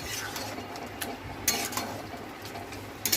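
A spoon stirring chicken kosha in a pot, light scraping with several sharp metallic clinks scattered through a short stretch, close and fairly quiet, no talk.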